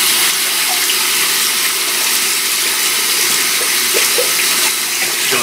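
Running tap water pours steadily into a kitchen sink while hands are washed, a broad continuous rush with small splashes and clinks, close and loud throughout with no talking.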